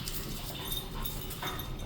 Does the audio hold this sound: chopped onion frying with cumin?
no